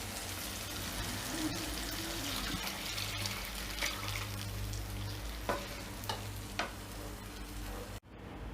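Tomatoes sautéing in a pan for a Tamil fish curry, a steady close sizzle and crackle with a few clicks of a spoon stirring, no talk.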